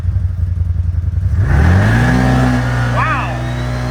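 A CFMoto ZForce 950 UTV with a clutch kit makes a low-range pull in low gear. The engine is loud and close, its revs climbing steadily under load and then holding, with a brief higher whine near the end.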